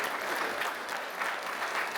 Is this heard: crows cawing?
no